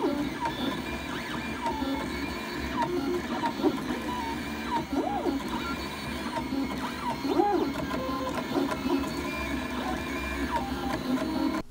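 A 3D printer runs a print of resized objects, its stepper motors whirring and warbling in shifting pitched tones over a steady low hum, close and continuous.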